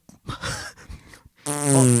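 A voice mimics fart noises: a short burst of sputtering, followed after a pause by a loud, sustained buzzing raspberry held for about half a second to the end.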